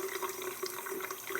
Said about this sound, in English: The sound you hear is the water coming out of the faucet actually.